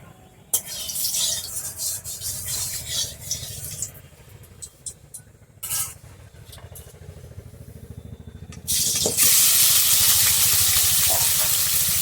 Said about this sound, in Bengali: মাছগুলোকে আমি ভেজে নিচ্ছি এবার।